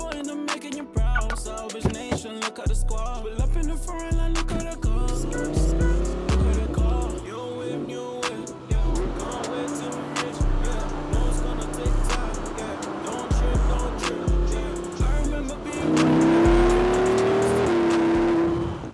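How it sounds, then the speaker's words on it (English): A 2018 Audi R8 V10 Plus drives on a street, its engine revving up through repeated gear changes, loud and close, ending in a long rising pull. "finally it was time to jump in and hit the streets in my R8"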